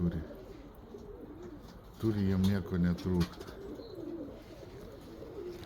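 Pigeons cooing nearby in a loft, a few strong rolling coos in the middle of the stretch over a low murmur of background birds, with someone talking quietly throughout.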